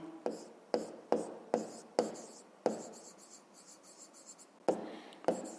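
A pen on paper writes out a maths solution in a quiet room, giving a series of sharp taps followed by fading scratchy strokes in an uneven rhythm, with a longer continuous stroke midway.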